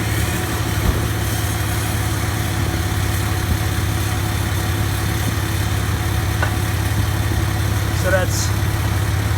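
Diesel truck idling through a 4-inch Flow Pro straight-pipe exhaust with a muffler after an EGR/DPF delete, a steady low rumble and drone throughout, with someone speaking briefly near the end.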